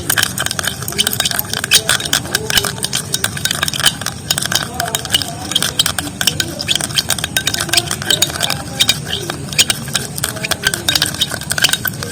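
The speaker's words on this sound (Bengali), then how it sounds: "এই দানা দানা চিনিটা কিন্তু বেশ খানিকক্ষণ এইভাবে চামচতে ঘাঁটার ফলে কিন্তু গলে এসছে" A spoon stirring granulated sugar as it melts, for a skin-brightening face mask, making a continuous rapid scraping and clinking against the bowl while someone talks over it.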